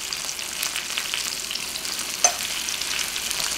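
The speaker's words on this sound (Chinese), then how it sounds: "把这个鸡排翻过来，再煎至另外一面" A chicken cutlet fries in a pan with a continuous gentle sizzle and crackle, one brief sharper pop partway through, close and alone without talk.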